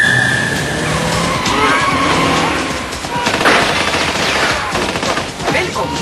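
Tyres skid and squeal loudly during a multistory car park chase involving James Bond's BMW 750iL, mixed with bursts of gunfire-like crackle and engine noise.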